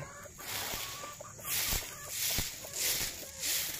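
Several chickens cluck at moderate volume in a series of short bursts over steady outdoor background noise.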